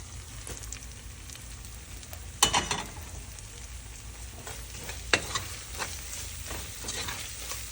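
Steady sizzling of spice masala sautéing in a pan for mutton kulambu, with a few sharp scrapes of stirring, close and continuous, with no voices.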